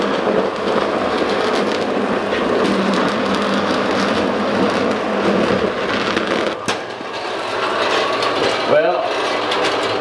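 A powered saw cuts through a roll of toilet paper with a stainless steel core in a home workshop, making a loud, dense, continuous rough buzzing and ripping, with a brief break and a sharp change near the end.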